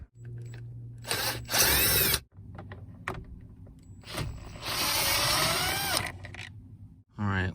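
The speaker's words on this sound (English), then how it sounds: "I'm going to be using a pretty long Torx socket here." A power tool spins a long Torx socket to back screws out of a Jeep Wrangler steering column cover, sounding as three loud whirring bursts, the middle one longest, with quiet mechanical handling noises in between.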